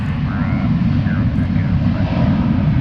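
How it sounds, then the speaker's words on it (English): An airliner on its takeoff roll down a runway at DFW Airport on a soggy day, a loud steady engine roar dominated by low rumble throughout. "We've got the Flight 2322 rolling down the runway"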